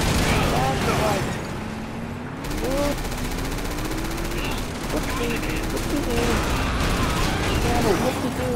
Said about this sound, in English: Keep firing while you can, bro.